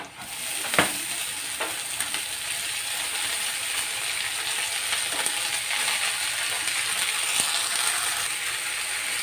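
Onion and garlic fry in a pan with a steady, close hiss of sizzling oil, broken by a few sharp clicks and scrapes of stirring.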